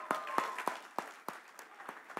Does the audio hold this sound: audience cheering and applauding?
yes